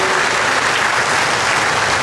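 A large audience at a governor's state of the province address gives loud, steady applause for the Philippine president, a thick wash of clapping with no voices above it.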